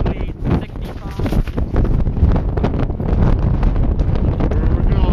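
Strong, gusty wind on Mount Lafayette roars and buffets the microphone loudly and continuously, gusts near 65 over a steady 40, with voices half-buried beneath the blasts.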